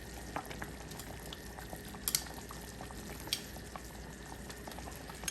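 Beef tongue sauce simmers in a Staub pot as a steady, quiet bubbling and gentle hiss, with a few faint clinks of a utensil against the pot.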